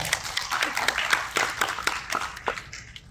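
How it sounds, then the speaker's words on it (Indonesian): Audience clapping at a large seminar in Jakarta, uneven and moderately loud, with distinct individual claps standing out from the group before it thins. "Tepuk tangan dulu dong."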